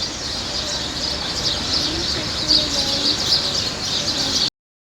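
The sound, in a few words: many birds chirping in a bush at dawn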